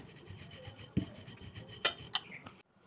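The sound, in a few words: rolling out wheat and potato chapati dough with rolling pin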